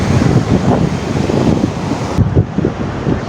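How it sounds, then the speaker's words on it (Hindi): A river flows through Pahalgam, Kashmir, in a steady, loud, broadband rush of water mixed with wind buffeting the microphone, continuous throughout with no speech. "ये नदी बह रही है पहलगाम के अंदर"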